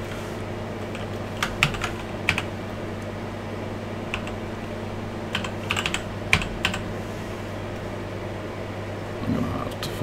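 Computer keyboard typing while setting up AMOS Professional on an Amiga emulator: scattered clusters of key clicks, close and moderately loud, over a steady low fan-like hum, with no talk.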